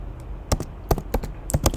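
Text being typed on a computer keyboard: a close series of about ten crisp, irregularly spaced key clicks, some in quick pairs, with no talking.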